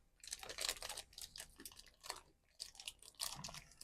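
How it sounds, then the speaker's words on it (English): Roasted salted hazelnuts being chewed close up, a run of crisp crunching bites in an irregular rhythm, fairly quiet with no talk. "We don't need to hear you chewing, so I'll move this away."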